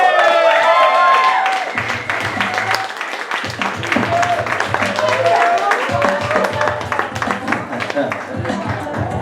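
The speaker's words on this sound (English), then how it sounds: "give a nice round warm applause to my homie, Mr. Caleb Teske" Club comedy-night crowd applauding a comedian taking the stage, loud dense clapping and cheering that continues while a voice talks and a low amplified hum pulses underneath.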